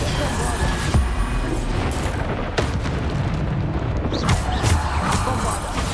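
Depulso spell and combat in Hogwarts Legacy, a string of sharp booming impacts and bursts spread irregularly over several seconds, loud and close, with rumbling game noise between hits.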